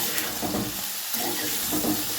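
Broccoli and tomato fry in a pan with a steady, soft sizzle, and faint stirring scrapes come and go at an even level with no voices.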